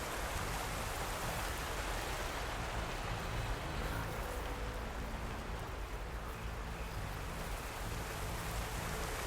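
Water rushing into a plunge pool in Horizon Forbidden West, a soft, continuous hiss and patter of falling water, steady and fairly quiet throughout.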